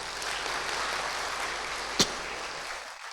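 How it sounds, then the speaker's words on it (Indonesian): Audience applause at a motivational talk on mental resilience, a steady dense wash of clapping that holds throughout, with one sharp louder clap near the middle before it thins slightly at the end. "Tepuk tangan buat beliau."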